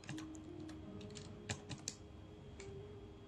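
Keys clack quietly and unevenly on a computer keyboard while text is typed into a graphic design program, a few taps standing out slightly louder against a faint background hum.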